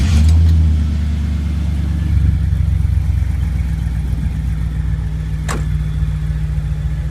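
A 1978 Corvette's 6-liter Cadillac truck V8 fires up with a loud burst, air conditioning on, then settles into a steady, deep idle that runs close by without interruption.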